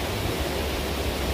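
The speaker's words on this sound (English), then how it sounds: "Them waves, when they come up, they're coming up pretty high, even for me." Steady broadband roar of ocean surf breaking on a beach during fishing, continuous and fairly loud with low rumbling swells underneath, no voices.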